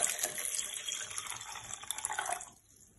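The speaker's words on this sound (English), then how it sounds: "I'm gonna go ahead and add some water." Water pours steadily into a blender holding breadfruit for a punch drink, a close, splashing trickle that lasts a couple of seconds before stopping abruptly.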